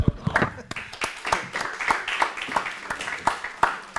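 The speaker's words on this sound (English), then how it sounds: "So please give him a round of applause." Audience applause for a speaker after a congratulation on an Ajax victory over Juventus, heard as irregular crisp claps spread across the room at moderate level, with a faint voice underneath.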